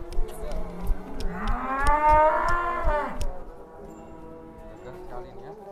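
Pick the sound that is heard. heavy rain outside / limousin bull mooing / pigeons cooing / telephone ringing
limousin bull mooing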